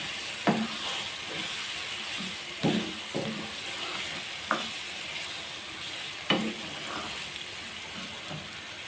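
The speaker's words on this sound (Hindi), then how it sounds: "मैं टमाटर भी इसके अंदर शामिल कर दूंगी और आप चमचा चला चला के भूनते रहें।" Chopped tomatoes frying in a pan while a spoon stirs them, a constant crackling sizzle broken by several distinct scraping knocks of the spoon at irregular intervals.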